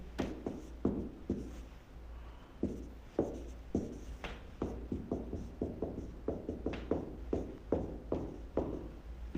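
A pen or marker writes an equation on a surface in quick, irregular taps and strokes, close and fairly quiet, steady throughout with no talking.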